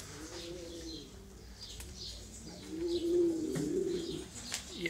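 Pigeons cooing nearby, several low rolling coos repeating in bursts, with faint chirps and wing flutters in the background.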